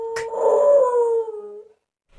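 A beagle lets out a single loud, close howl that rises briefly, holds, then trails off into silence.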